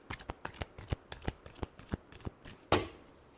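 Tarot cards being shuffled close up, a quick series of soft riffling flicks and taps in an uneven rhythm, ending with a sharper slap as the deck settles; quiet, with no talking.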